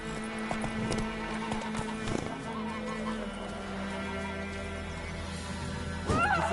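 Roach the horse, in a PS4 Witcher 3 game, clops along on hooves with a brief whinny, heard close over a steady hum of game ambience and music.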